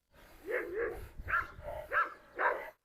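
Dogs fighting, a Doberman among them, with a series of about five loud, close, whining barks and yelps in quick succession, each with a strained, harmonic tone.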